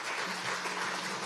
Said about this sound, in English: I want to give a round of applause to our panel,